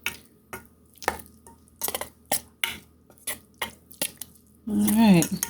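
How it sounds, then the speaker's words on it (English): Kimchi paste being stirred with a little water, giving scattered wet scrapes and taps of a utensil against a bowl at close range, ending in a short burst of speech. "stir, maybe with a little bit of water to help it flow"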